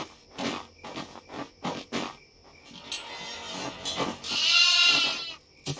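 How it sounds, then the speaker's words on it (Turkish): Young goat kids bleat in a few short, separate calls, then a longer, louder wavering bleat near the end, close by and clear with no talking. "Bunlar oğlak keçi değil ki bu"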